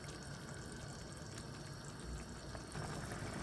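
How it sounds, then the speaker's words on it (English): A pot of ground beef stew at a rolling boil, giving a faint, steady bubbling and gurgling hiss that keeps going with no voices. "you see it's boiling nicely"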